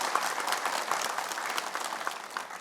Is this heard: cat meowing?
no